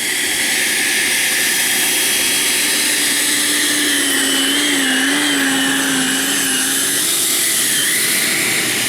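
A Taft Hobby Viper Jet V3 with a 90mm electric ducted fan on 6S power screams close by, a loud, sustained high whine whose tone wavers slightly over nearly nine seconds.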